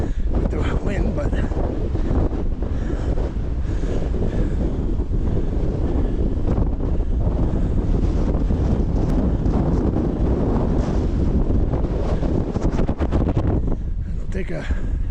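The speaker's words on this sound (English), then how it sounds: "Oh, it's very windy" Strong coastal wind at Bray Head in County Wicklow buffets the microphone in a continuous loud, rumbling roar that barely lets up, with a voice speaking now and then beneath it.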